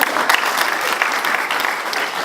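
Audience clapping loudly in a hall, a dense, close burst of applause holding steady through the whole stretch.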